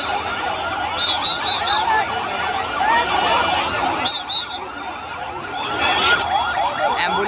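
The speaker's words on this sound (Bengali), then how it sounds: "অ্যাম্বুলেন্স চলে এসেছে।" Ambulance siren wailing as it arrives at the scene of a plane crash into a school, loud and continuous with rising and falling tones over crowd noise.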